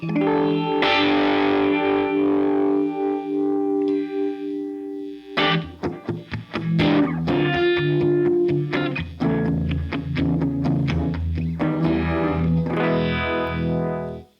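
Electric guitar chords and single notes played through a Keeley Monterey Rotary Fuzz Vibe pedal on its Univibe setting, rate at 9, warbling and throbbing with some grit. Steady and fairly loud, with no talking.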